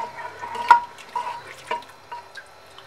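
Spice mixture with about 400 ml of water for chicken nihari gets stirred in a pot, giving a few soft liquid sloshes and spoon clinks in quiet, irregular bursts.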